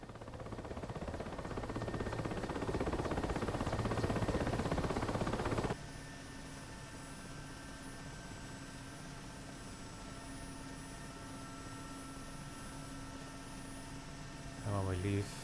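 An Mi-8 helicopter's engines run during takeoff in the DCS flight simulator, a loud, steady turbine and rotor roar that drops abruptly to a quieter drone partway through, then swells briefly again at the end.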